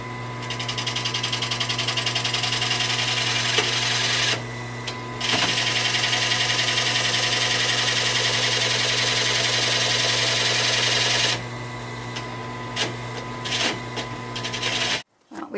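A power drill grinds steadily into a wooden bluebird house, a close, continuous whirring rasp that runs for several seconds, stops briefly, resumes, then cuts off near the end.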